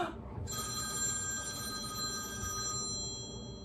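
Telephone ringing indoors, a steady electronic ring that starts just after a brief moment of room noise and holds at moderate level, fairly distant, with no talking over it.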